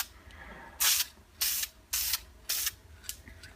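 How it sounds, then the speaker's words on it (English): Spray paint can misting a key in short bursts, four distinct hissing sprays about half a second each with brief pauses between, close and fairly loud, plus a fainter final puff. "just a nice mist."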